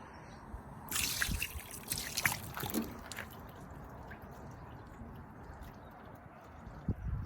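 Water is poured over a car window treated with Rain-X, making a splashing, trickling burst for about two seconds that then fades to a quiet background.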